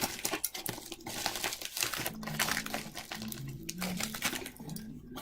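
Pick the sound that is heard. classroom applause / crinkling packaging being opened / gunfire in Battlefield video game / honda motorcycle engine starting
crinkling packaging being opened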